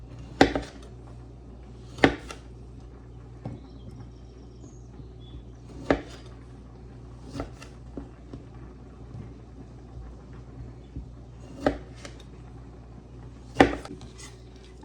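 A knife taps sharply against a cutting board while quartering large grape tomatoes, roughly a dozen crisp, evenly spaced knocks over a low kitchen hum, close by and with no one speaking.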